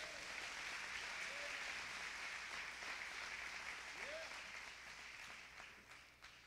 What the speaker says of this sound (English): Somebody give him a hand clap of praise.